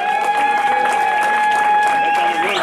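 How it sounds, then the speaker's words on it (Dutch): An audience applauds a woman named Charlotte at a music event, with a dense wash of clapping running under sustained tonal music throughout. "Ik wil ook nog een groot applaus voor Charlotte."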